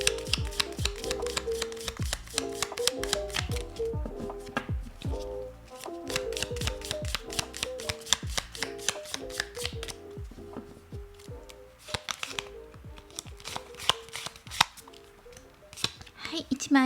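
Oracle cards for a tarot reading are shuffled by hand in repeated crisp riffling bursts with short pauses between them, close and clear, alongside soft background music.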